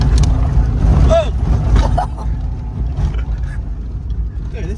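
A Holden VT Clubsport engine roars loud and close as the car accelerates hard in second gear, a rough rising drone with road and wind noise, while people talk excitedly over it.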